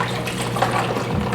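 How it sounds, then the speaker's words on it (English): A cloth dipped into a bowl of ice water gives a brief, close, continuous swishing and sloshing of liquid, with no talking. "I'm going to dip it in this ice water"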